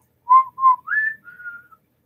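A person whistles to imitate a disembodied whistle: two short steady notes, then a rising note and a longer, lower trailing note. The whistling is close and clear, alone with no talk.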